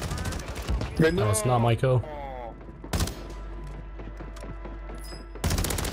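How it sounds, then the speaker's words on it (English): Gunfire in a shooter video game: a loud burst of shots cuts in, then another sharp volley follows a couple of seconds later, with someone talking over the start and background game noise throughout. "Who's shooting at me?"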